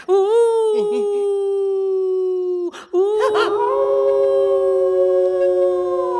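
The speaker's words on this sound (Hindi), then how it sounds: "दूर कोई कुत्ता रोता है" A dog howls in two long, sustained, wavering cries during an eerie, ghostly night scene, the second howl following a brief break. Both are loud and close rather than distant, with a low murmur beneath the second.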